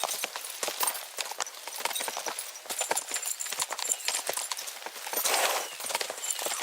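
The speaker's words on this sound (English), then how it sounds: "We should spur the horses on." Horse hooves gallop in Kingdom Come: Deliverance 2, a fast, busy run of clip-clop beats with a few soft snorts in a steady game soundscape. No voices are heard.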